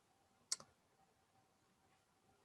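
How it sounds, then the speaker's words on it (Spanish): A single faint, sharp click sounds in a quiet room, followed by a softer tick at the very end. "Clic."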